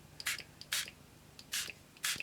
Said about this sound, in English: I think I'm going to spray it again